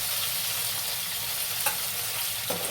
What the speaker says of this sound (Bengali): ট্যাংরা মাছ আমি খুব যে কড়া করে ভাজি তা কিন্তু ভাজি না